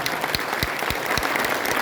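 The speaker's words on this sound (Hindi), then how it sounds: "उनके लिए जोरदार ताली बजाओ" Steady, vigorous clapping from a crowd at a political gathering, with a few louder individual claps standing out throughout.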